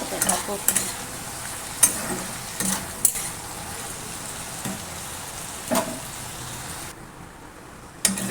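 Steady sizzling of four or five green chillies frying in a pan, with a few sharp clinks and stirring scrapes, close by; it cuts off near the end.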